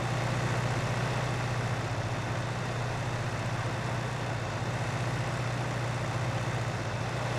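A 68-horsepower tractor engine in Farming Simulator 19 drones loudly and continuously, a heavy low rumble that labours steadily under load throughout without a break.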